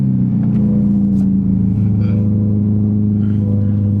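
A Chevrolet Corvette engine idling after a cold start, a loud, steady, deep rumble held close, with only slight rises in revs.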